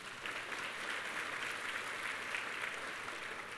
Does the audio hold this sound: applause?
yes